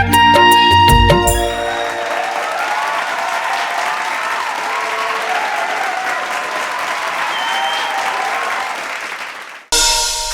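Studio audience applause for a singer on the Bhakti Kantha devotional singing reality show, sustained and even after a few opening musical hits, then cutting off sharply near the end.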